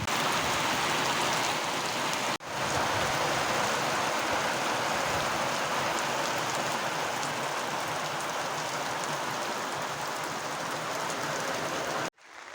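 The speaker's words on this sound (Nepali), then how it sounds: "पानीले डिस्टर्ब हान्यो" Heavy rain pours steadily near Myanglung in the hills of eastern Nepal, a dense, continuous hiss of falling water that stays loud and unbroken except for a brief dip and an abrupt cut at the end, with no voices.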